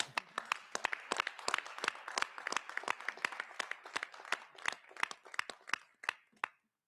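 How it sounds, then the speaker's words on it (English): A small group applauds at a school board meeting, sparse individual claps ringing out sharply in an uneven rhythm, fairly close and moderately loud, then thinning to a few last claps before stopping. "I think you first need a round of applause."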